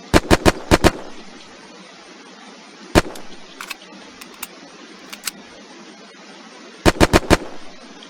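Gunfire from Western Front weapons in the Unturned video game: a fast burst of four shots, then a lone shot, scattered single shots and a closing burst of four, loud and close over a steady ambient hiss.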